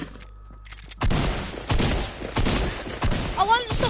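Repeated rapid bursts of gunfire from the video game Fortnite, with the shooting continuing without stopping. Three or four loud, sharp volleys follow a near-silent opening second.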